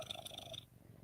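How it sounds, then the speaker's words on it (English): A house cat purrs close to the mic, a low rumbling rhythmic purr heard alone over a brief moment. "That's my cat purring."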